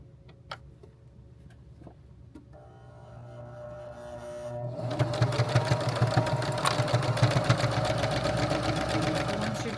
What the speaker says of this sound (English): you're going to sew down and around and back up to the other side